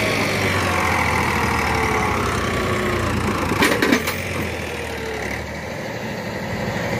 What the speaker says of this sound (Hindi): ट्रैक्टर निकाल